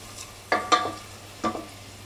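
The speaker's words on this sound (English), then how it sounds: "we're gonna let again these onions cook on a very low heat" Onions cook gently in melted butter with a faint background sizzle, broken by three distinct stirring scrapes and clacks of a utensil against the pan.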